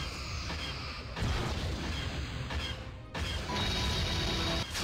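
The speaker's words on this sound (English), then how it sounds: "And kaboom! We got him! We destroyed the Death Star!" In a space battle video game, the Death Star explodes with loud, rumbling crash and blast effects. Several bursts overlap over a few seconds, separated by brief dips, all dense and booming.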